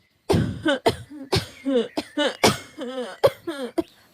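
A voice gives a quick series of short, hoarse coughs close up, roughly ten in a row, imitating a coughing bird.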